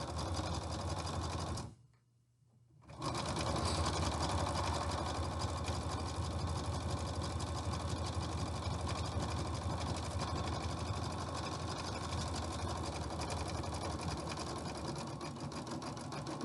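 A sewing machine running a zigzag stitch down folded twin sheet fabric, a steady fast mechanical whir close by, pausing once briefly near the start before resuming and running on continuously.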